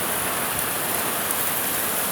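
Heavy rain pouring down outdoors in Earp, California, a dense, steady hiss that holds evenly close by throughout, with no voices.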